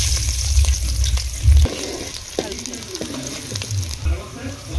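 Onions frying in hot oil for a chicken liver tamarind curry, with a steady close sizzle and bursts of low crackle and stirring, and no voices.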